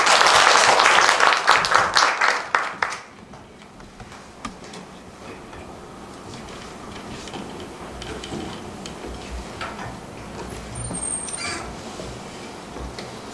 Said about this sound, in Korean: 박사님께 다시 한번 네, 박수 부탁드리겠습니다